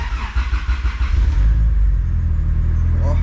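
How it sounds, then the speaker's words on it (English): A turbocharged Honda Type R fitted with a Hondata tune cranks with rhythmic starter pulses, then catches and settles into a loud, deep idle rumble close by. "the car should be ready to start. Let's go ahead and give it a try."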